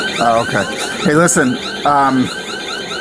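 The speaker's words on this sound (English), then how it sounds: "What is that, your alarm? Is that your alarm?" An alarm warbles in repeated rising and falling tones through a few seconds while a person talks over it.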